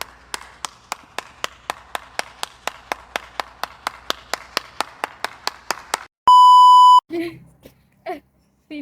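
Regular claps after a class presentation, about twenty evenly spaced sharp hits, close and clear, that stop and give way to a long steady test-tone beep and then brief bursts of other sound.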